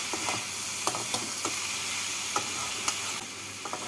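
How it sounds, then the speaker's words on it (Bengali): Bathua greens with fried eggplant, bori and sugar are mixed in a hot pan, a close steady sizzle broken by regular scraping and clacking stirring strokes. "বড়ি বেগুন আর চিনি দিয়ে শাকের সাথে ভালো করে মিশিয়ে নিচ্ছি"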